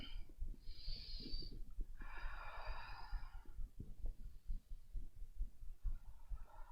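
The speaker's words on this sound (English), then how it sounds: "Take some deep breaths, close the eyes." Slow, deep breaths during a tricep stretch, two soft airy inhales and exhales close to the microphone over faint low thumps, quiet throughout.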